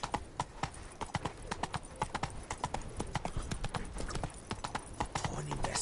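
Rapid, even hoofbeats of the horse Roach galloping in The Witcher 3, a dense clip-clop rhythm throughout with a faint voice underneath.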